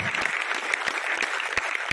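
A group of children claps loudly and steadily to welcome a guest at an Independence Day celebration, a dense, continuous round of applause from a nearby crowd with no speech over it.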